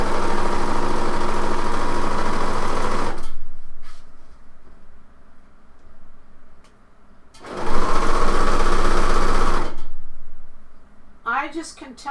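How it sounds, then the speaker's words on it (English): A serger overlocker stitches a blouse seam closed in two loud, steady whirring bursts, close up. A quieter stretch separates them, with faint talking and handling sounds. "So I'm going to serge this closed."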